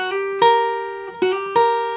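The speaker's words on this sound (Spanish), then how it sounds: "Lo único que estoy haciendo es un hammer-on" A few bright plucked requinto guitar notes ring close by, with quick hammered-on attacks on the second string sounding new pitches between picks, no voices.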